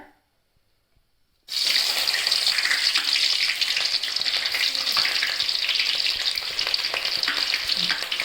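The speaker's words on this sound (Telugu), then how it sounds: "నూనె అయితే వేడెక్కింది ఫ్రెండ్స్. ఉల్లిగడ్డ పచ్చిమిర్చి అయితే వేసుకుంటున్నా." After a moment of silence, onions and green chillies drop into hot oil and burst into loud, continuous sizzling and spitting that holds steady close up to the end.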